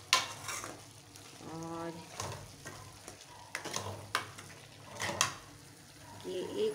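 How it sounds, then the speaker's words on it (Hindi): Fenugreek leaves frying in a pan over raised heat, a continuous close sizzle broken by several sharp spoon clanks and stirring scrapes against the pan, with a voice speaking briefly at one point. "ये देखिए मेथी ऐड करके मैं इसको इसकी आंच थोड़ी तेज़ कर दूँगी, हल्की आंच पे नहीं पकाना है मेथी"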